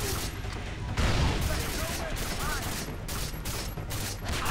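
Gunfire in the video game Far Cry 3, a dense run of shots over steady battle noise, with voices heard in the mix.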